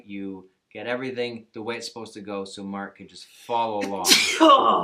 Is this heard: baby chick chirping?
no